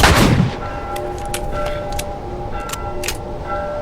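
A few sharp gunshot cracks in The Last of Us Remastered on PS4 ring out over a steady background hum and low rumble, spaced irregularly across a few seconds.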